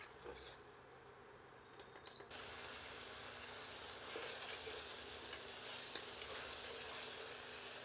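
Double-layered chicken curry sizzles in a pan on high heat as the last water cooks off, a steady crackling fry with a brief stir or scrape near the start, continuous and moderately close.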